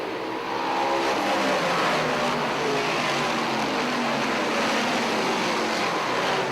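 Race cars roaring around Airborne Speedway in Plattsburgh, New York just after the green flag, a dense continuous engine roar held at steady loudness throughout with no talk.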